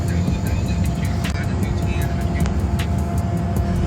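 Private jet engine heard in flight: a constant loud roar and rumble filling the cabin, steady throughout, with someone talking over it.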